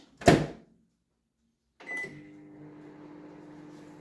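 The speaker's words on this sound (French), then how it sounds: "je vais au micro-ondes" A thud, then a microwave oven heating chocolate with a drop of water starts up with a click and settles into a steady, close electric hum.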